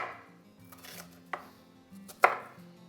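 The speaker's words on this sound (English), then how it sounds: "Let's cut up some onion." Knife chopping onion on a cutting board while making a dove kabob side dish, a few separate sharp chops at uneven intervals, close and clear against a quiet kitchen background.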